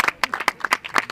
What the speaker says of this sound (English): You could hear that round of applause in the background.